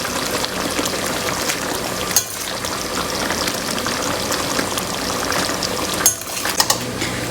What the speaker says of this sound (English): now I'm gonna go ahead and add the tortellini in here